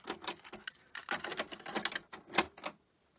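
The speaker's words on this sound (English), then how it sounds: "Let's put a tape in there." A cassette tape is loaded into a Sony CMT-M100MD minidisc stereo, giving a quick run of close, sharp plastic clicks and clacks of the tape deck door and mechanism, with a fairly quiet room around it.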